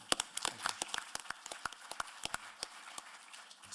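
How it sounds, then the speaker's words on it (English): Brisk, uneven clapping from a small audience at a Wernher von Braun memorial symposium: distinct individual claps in quick succession, fairly faint and a little distant. "Let's have a round of applause for Peter."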